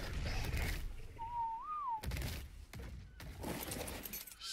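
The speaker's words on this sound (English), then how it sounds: "Right, I'm gonna have to whistle." A single rising and falling whistle command in the survival video game ARK sounds briefly and clearly amid game ambience and scattered impacts, with no talking.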